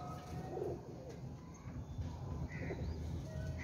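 A Teddy pigeon, a breeder's bird kept in a pair, gives soft low cooing calls against a background of other birds chirping nearby.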